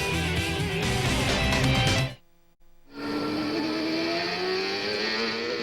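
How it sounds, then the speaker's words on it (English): CART race cars on track during qualifying in Montreal in 2002, engines screaming at high revs as they pass, then a brief drop to near silence before another car's steady, whining drone returns. "Cars are back on track, and when I say cars, I mean all of them."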